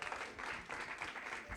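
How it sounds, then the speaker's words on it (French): Audience applause for a woman introduced as a speaker at an entrepreneurship seminar, a steady patter of many hands clapping at moderate distance for under two seconds. "Can you clap for her?"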